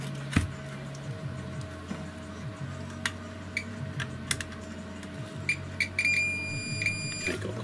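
A multimeter continuity tester sounds a steady electronic beep for about a second and a half near the end, over a constant low hum and scattered light clicks of probes and handling.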